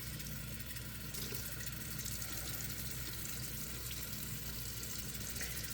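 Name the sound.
hot tap water running into sink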